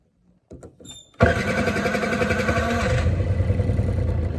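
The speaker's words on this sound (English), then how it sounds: "let's do a cold start" An old moped that sat in a basement for over 15 years is cold-started: a few clicks and cranking sputters, then the small engine catches and runs loud and steady up close.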